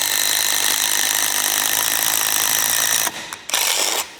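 An entry-level DEWALT drill bores a 16 mm hole at speed 3, a loud, steady high-pitched whine with grinding texture that cuts out abruptly near the end, briefly restarts, then stops.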